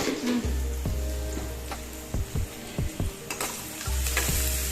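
Onions fry and brown in a pan with chili and spices, a close, steady sizzle broken by soft thuds and taps as they are stirred every second or so.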